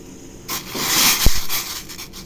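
A burst of bubbling, sizzling splashes as potatoes drop into boiling water, with a brief thump partway through.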